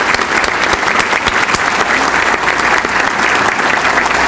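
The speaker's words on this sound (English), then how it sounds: "Let's have a round of applause for our mayor." Audience applause for the mayor at the 2016 Suffolk State of the City event, a dense, steady roomful of clapping, loud and sustained throughout with no pauses.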